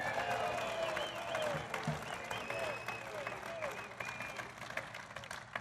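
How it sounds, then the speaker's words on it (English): A crowd of workers at Mariotti Building Products chants the name Lou for Lou Barletta at a Trump event, a dense, loud, sustained roar of voices and cheering that runs throughout, with a single voice carrying over the top. "they're shouting, Lou. They're not booing."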